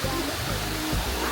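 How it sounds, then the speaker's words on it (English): Waterfall along the Road to Hana in Hawaii, a broad, continuous roar of falling water heard nearby, with a brief voice faintly over it. "We are now at a waterfall"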